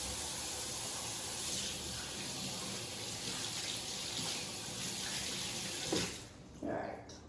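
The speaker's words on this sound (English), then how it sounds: "gotta wash my hands" A kitchen tap runs steadily as hands are washed under it, a constant close rush of water that swells and splashes briefly near the end before cutting off, with a faint voice murmuring beneath.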